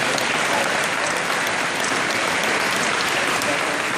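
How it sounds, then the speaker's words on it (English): Sustained applause from the audience at a Fishing For Freedom ceremony banquet, dense and steady clapping filling the room at an even loud level throughout, with no talk rising above it. "So we want to give them a round of applause as well while they hand out this picture."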